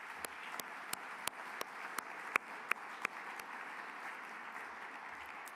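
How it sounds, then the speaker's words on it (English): Ceremony audience giving a round of applause for volunteers and judges at an awards event, soft steady clapping from a crowd with a few sharper nearby claps standing out. "join me in a round of applause for our volunteers and"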